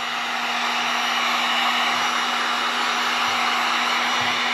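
Hair dryer blowing steadily at close range to dry rubbing alcohol on a skin patch, a constant whooshing airflow with a fixed motor hum throughout and no talking.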